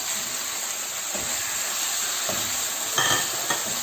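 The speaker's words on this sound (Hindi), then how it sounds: "अब इस चिकन को हम फ्राई करेंगे 4 से 5 मिनट के लिए" Half a kilo of boneless chicken fries with ginger-garlic paste in a pan over medium heat, giving a steady close sizzle with a few brief stirring scrapes near the end.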